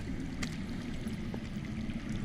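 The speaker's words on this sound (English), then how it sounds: "That's water. I hear water. From underground." Water flowing underground in a Game of Thrones game, a low, steady gurgling rush that is fairly faint and continuous, with a couple of brief splashy ticks on top.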